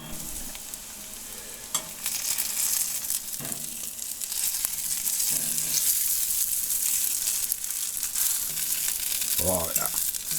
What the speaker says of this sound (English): a bit of butter in an iron pan, nice and hot there.